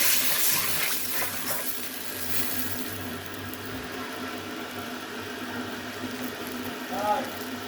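Water poured into a cooking pan for a catfish curry, producing a soft continuous rushing and bubbling wash that runs low and steady throughout, with no voices heard.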